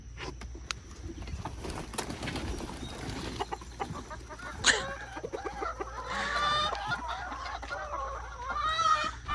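Chickens cluck and squawk inside a small farm's coop on a morning, with rising bursts of calls and some rustling and clatter beneath, heard fairly close and growing busier toward the end.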